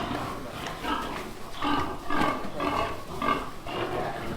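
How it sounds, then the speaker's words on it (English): Piglets squeal and grunt in a farm pig scramble, a run of repeated shrill squeals in quick bursts about every half second, close and loud, with people's voices mixed in. "A pig scramble."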